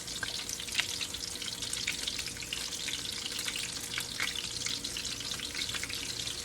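Noodles fry in a hot pan on a stove, a continuous close crackling sizzle with scattered sharper pops and no talking.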